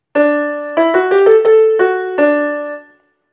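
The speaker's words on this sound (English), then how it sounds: "So here we have the theme, and the retrograde." A short musical theme of a few clear, bell-like pitched notes stepping upward, immediately followed by the same notes in reverse order, sounding bright and close before a brief ringing fade, with no talking.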